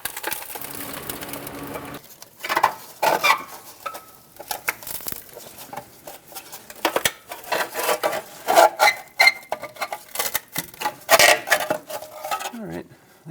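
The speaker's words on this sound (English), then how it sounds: "I'm just going to bend it straight, try to extract it from where it's sitting." A trashed metal exhaust heat shield on a 2011-2018 Ram 2500 with the 6.4L HEMI is bent straight and pried loose, giving irregular close metallic crunching, scraping and rattling bursts over roughly eleven seconds.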